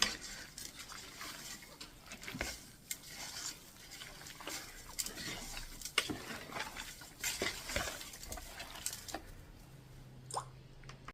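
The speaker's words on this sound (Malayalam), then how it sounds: "അതിനുശേഷം നമ്മൾ ഇത് നന്നായിട്ട് ഇളക്കുക" Beef with a little coconut oil is stirred in a pan, with quiet repeated scraping and clinking of a utensil against the metal over a faint sizzle, close but low in level, ending in a softer hum.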